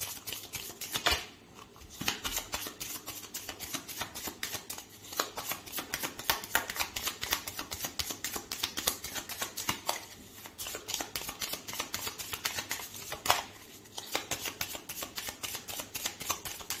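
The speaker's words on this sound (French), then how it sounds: "on mélange les cartes" Playing cards shuffled for a Dungeons & Dragons Adventure Begins board game, close crisp riffling and flicking bursts with brief pauses between them.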